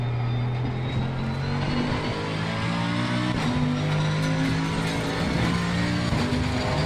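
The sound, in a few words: GT3 race car engine in video game Assetto Corsa Competizione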